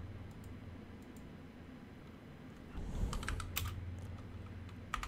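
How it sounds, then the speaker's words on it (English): A quick run of keystrokes types a short word on a computer keyboard, a cluster of close clicks after a stretch of steady background hiss. "you're going to type in wiggle."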